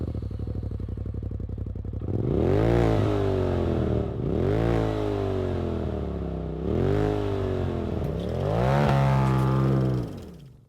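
A Polaris RZR XP Turbo fitted with an MBRP Performance Series exhaust idles with a loud, close throb, then revs four times in separate swelling bursts before cutting off.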